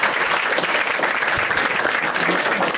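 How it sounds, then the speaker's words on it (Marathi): A stand-up comedy crowd claps in a thick, sustained wash of applause that stays loud and even throughout, with no voices on top. "एकदा टाळ्या वाजायच्यासाठी"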